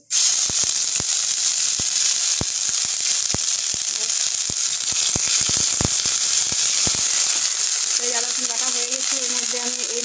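Ginger, garlic and onion paste hitting very hot oil with five-spice seeds, a loud, steady, close sizzle that continues throughout, with scattered clicks and a brief higher tonal sound near the end.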